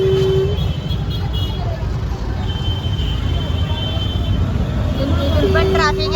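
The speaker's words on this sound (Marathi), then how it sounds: "इथून पण ट्रॅफिक आहे." Busy street traffic during a large rally, with a dense rumble of vehicles and engines and a few short horn toots near the start and end. People talk throughout over the noise.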